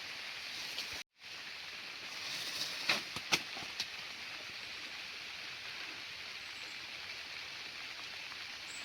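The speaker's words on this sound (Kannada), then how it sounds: "ಮಳೆ ಬಂತು" Steady rain falls across an orange fruit estate in Coorg, making an even hiss broken by a short dropout and a few sharp drips or taps.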